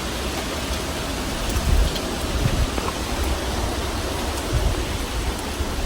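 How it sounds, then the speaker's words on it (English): Steady rain falls outdoors on a dreary day, a dense even hiss with a few heavier patters, moderately loud and continuous with no voices. "Great, now it's raining."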